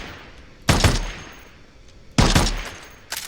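An MK14 rifle in a video game fires two loud, sharp shots about a second and a half apart, each trailing off into a long echoing decay, followed by a fainter third report near the end.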